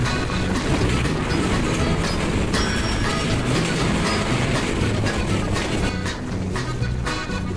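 Chilahati Express rolls through Boral Bridge station at speed, a loud, continuous rail rumble with rattling carriages and sharp clanks and bangs scattered throughout.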